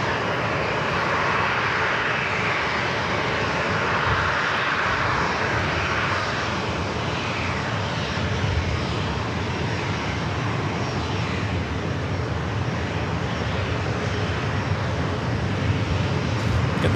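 An airliner departs San Diego airport for San Francisco, its jet engines producing a loud, sustained roar that fills the whole stretch with an even, broad rumble and no talking.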